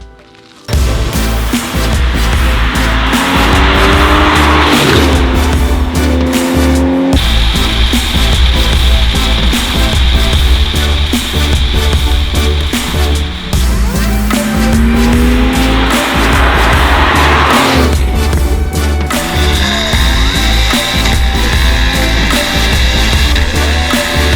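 A Porsche Cayman S, naturally aspirated with no turbo, accelerates hard on the road, its loud engine note rising steadily through the gears with clear pitch climbs and short shift breaks, continuous and close for the whole stretch.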